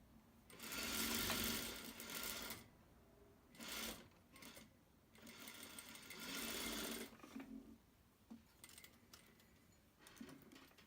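Sewing machine stitching a seam on light fabric in several separate bursts of rapid mechanical chatter, broken by short pauses and small handling clicks, heard up close with no talking.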